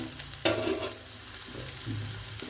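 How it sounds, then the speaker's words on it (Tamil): Cut drumstick (moringa) pods and half an onion sautéing in a pan for a dry stir-fry: a close, continuous sizzle with a few sharper stirring scrapes and clatters, no voices. "முருங்கைக்காய் கொஞ்சம் நேரம் வதங்கட்டும்"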